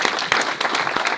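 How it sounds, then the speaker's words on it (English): Applause at a Lake area tea party meeting, a crowd clapping steadily and fairly loudly throughout the short burst, with a few sharper claps standing out. "let's give her a round of applause"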